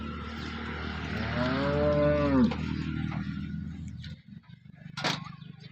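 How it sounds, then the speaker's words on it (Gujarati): A local cow in Tharad taluka, Banaskantha, six days after calving, gives one long, loud moo that rises and falls close by, followed by a few soft thumps. "આ 6 દિવસ થયા છે વિયાણાને આ ગાયને"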